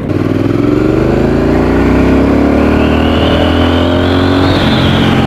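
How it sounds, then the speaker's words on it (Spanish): A five-gear motorcycle ridden on a road in El Salvador: its engine drones loud and close, the pitch climbing steadily as it accelerates, with no talk over it. "Otra característica de esta moto es que tiene 5 marchas"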